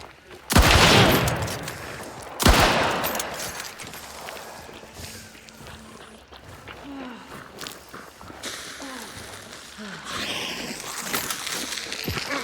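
Gunfire in a video game, two loud sharp shots followed by scattered quieter pops, footsteps and clatter, with a voice talking over it.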